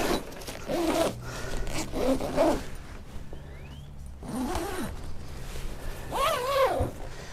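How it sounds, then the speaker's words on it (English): A zipper is drawn closed along the fabric door of a truck bed tent in several long pulls with short pauses between them, close and fairly loud, with no talking. "let's go ahead and just zip this back closed so that it's out of the way for us here"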